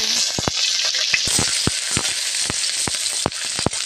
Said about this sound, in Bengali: তেলের মধ্যে পেঁয়াজ কেটে দেব